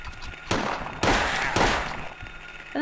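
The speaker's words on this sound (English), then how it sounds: "I don't like having to shoot the dog." Three gunshots ring out at a dog in the video game Silent Hill, sharp, loud reports spaced about half a second apart, each trailing into a short decay, with no talking over them.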